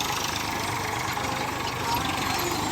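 A dusty, long-unwashed tractor engine idles steadily nearby, a continuous low rumble with faint knocking texture running without pause throughout.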